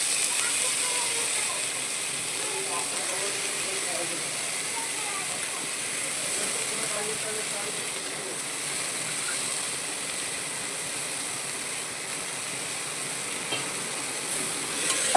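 Cluster beans and potatoes sizzle steadily in a spiced pan with garlic, a continuous close hiss with no break.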